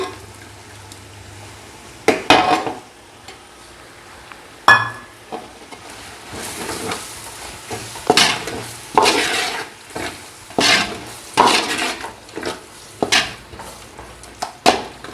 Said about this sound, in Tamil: தயிரை ஊற்றி நல்லா கிளறிக்கலாம்